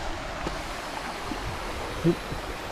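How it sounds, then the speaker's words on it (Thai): A waterfall and river at a riverside campsite in Suan Phueng, Ratchaburi, Thailand, give a steady broadband rush of flowing water that fills the whole clip evenly, with one brief soft knock near the end. "ตรงนี้ก็จะมีเป็นน้ำตก"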